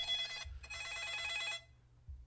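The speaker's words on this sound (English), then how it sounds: "My phone is ringing off the hook." A telephone rings in two electronic bursts, the first short and the second about a second long, loud and close, with a low hum underneath.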